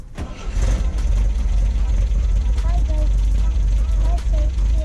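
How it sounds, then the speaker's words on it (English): A 1974.5 MG MGB engine with repaired HIF4 carburetors cranks and catches, then settles into a steady, loud idle with a low rumble, while voices speak faintly over it. "I think it's idling better than it ever has."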